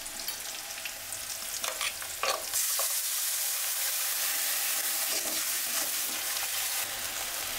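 Spices with turmeric and salt fry and get stirred in a pan, a quiet steady sizzle broken by scraping strokes of the spoon near the start, then a continuous crackling fry.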